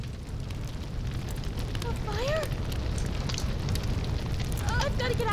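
Fire roars steadily in the horror game Fear the Spotlight, a dense low crackling rumble running throughout, with brief rising whistle-like tones over it.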